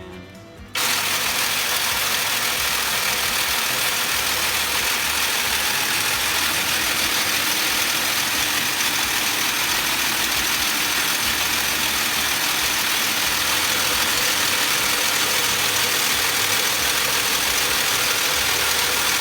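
Wire harness manufacturing machines run at half speed in a factory, switching on abruptly and then holding a loud, dense mechanical whir and rattle that continues without a break and with no voices.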